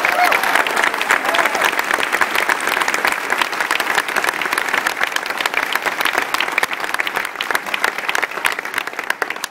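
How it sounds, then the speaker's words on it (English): An audience at a University of Missouri press conference about joining the SEC breaks into a long, loud round of applause. The crisp, dense clapping holds steady throughout and rises in sharp individual claps near the end. "please give Dr. Brady Deaton one more big round of applause for his great job"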